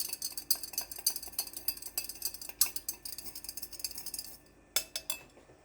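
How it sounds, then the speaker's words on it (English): A whisk beats beef and broccoli sauce in a bowl, giving quick rhythmic clinks against the sides that come in a steady run, pause briefly, then resume with a few final taps; no voices. "You want to whisk this up really, really well."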